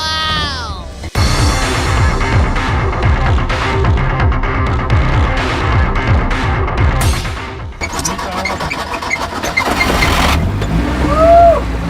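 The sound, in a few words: custom monster car on tractor tyres driving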